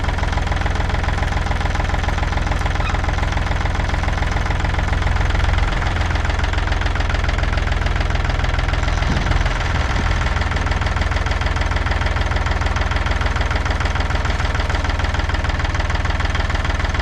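Tractor engine running rough with fuel trouble while parked tilted up on a bank, a loud, close, continuous rapid knocking chug with heavy low rumble and rattling vibration throughout.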